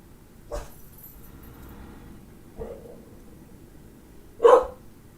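A dog gives three separate short barks, the last one loudest and sharpest, spaced a couple of seconds apart over a quiet background hum.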